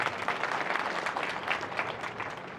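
An audience at a public rally in Shegaon claps steadily, a fairly distant, continuous patter of many hands that stays even and then slowly fades.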